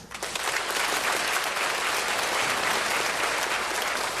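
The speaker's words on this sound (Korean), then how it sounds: "박수" A church congregation bursts into sustained, dense applause during a pastor's sermon, a steady wash of many hands clapping that stays loud and even throughout with no speech on top.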